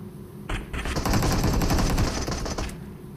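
Gunfire in PUBG Mobile on the Livik map: a sustained burst of rapid automatic shots, loud and close, running for about two seconds with no talk.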